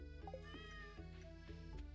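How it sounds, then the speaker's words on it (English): A cat in Stardew Valley meows repeatedly in short, clear, tonal calls over a soft game music bed, with no voices. "Hello, cat. I'll come back and pet you in a bit."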